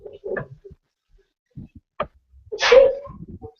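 A single sneeze bursts out near the microphone, preceded by a few quiet mouth noises and murmurs.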